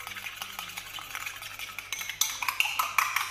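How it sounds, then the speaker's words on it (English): A spoon scrapes and clinks in a small bowl as a homemade vitamin C serum is stirred by hand, a steady rhythmic scraping that grows louder and brighter toward the end, with no talking. "Now mix it again."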